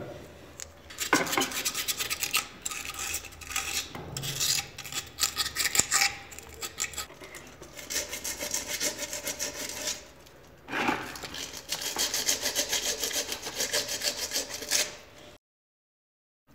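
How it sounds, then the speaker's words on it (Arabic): Water pump parts are sanded by hand with sandpaper in steady, close, rasping strokes that run almost continuously, with short pauses, before the clip falls silent. "ولإتمام تنظيف هذه القطع يمكن استعمال الورق الزجاجي أو ما يعرف بالبابي فار."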